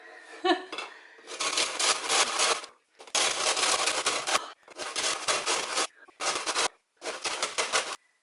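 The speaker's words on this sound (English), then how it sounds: "I am now going to take a grater, and we are going to put this on this plate, and we are going to grate a lemon for the zest." Lemon zest is grated on a hand grater over a plate, in five rapid bursts of harsh scraping, each a second or so long, with short pauses between them.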